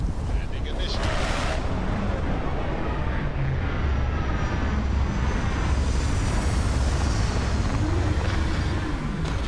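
Spaceship landing in Starfield, a loud sustained rumbling engine roar with low booming thrust and rising whooshes, continuous from start to finish.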